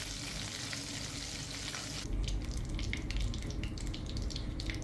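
Chicken wings go into hot oil for a crisp second fry, giving a continuous close sizzle that grows louder and more crackly partway through as the pieces hit the oil.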